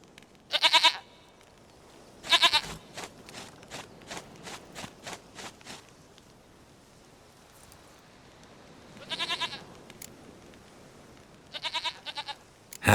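A goat in The Witcher 3 bleats in short, sharp bursts spaced apart, with faint rhythmic tapping between the calls.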